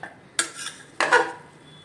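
A spatula stirs cooked rice inside a pressure cooker, making two short, close scraping strokes against the metal pot.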